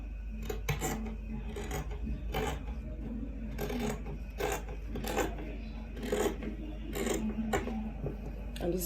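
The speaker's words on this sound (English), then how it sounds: "Now I'm going to go ahead to cut this piece out." Scissors cut out fabric pieces for a bonnet, making quiet, close, crisp snips that come in quick repeated bursts.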